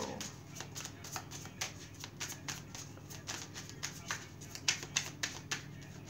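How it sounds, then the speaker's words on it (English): Tarot cards shuffled by hand in a steady run of crisp, close riffling taps, quiet and fairly even, with no talking. "I'm going to stop shuffling"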